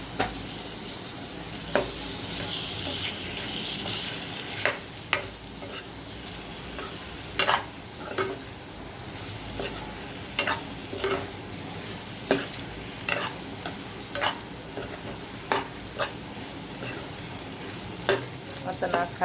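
Dried salted bangda fish fries in a pan, with a steady low sizzle running throughout and regular sharp scrapes and clinks as a spoon stirs it, close and fairly quiet.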